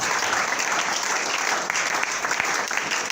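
A church congregation applauding God during a sermon, dense sustained clapping from a crowd filling the room, steady and loud throughout.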